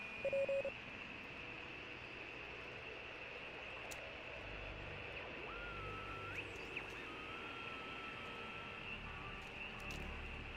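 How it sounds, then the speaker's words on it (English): Radio static from a handheld dial in the game Oxenfree, a faint steady hiss with thin whistling tones sliding and warbling as the dial is turned, brief tonal blips near the start. "just tune the dial left or right until you start hearing some weirdness"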